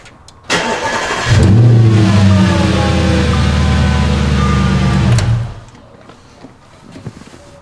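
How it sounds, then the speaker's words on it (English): A 2011 Audi S5 engine cranks briefly, catches with a loud rev, then settles into a steady idle for several seconds before cutting off, heard close up with no talking. "I'm going to turn on the car again"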